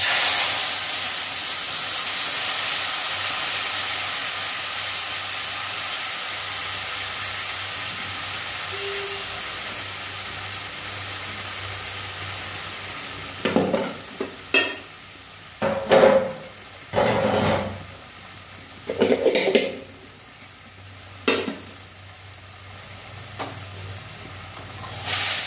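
Tamarind water hits a hot pan with a soft, steady sizzle and hiss, later broken by several brief scraping and clattering bursts of stirring.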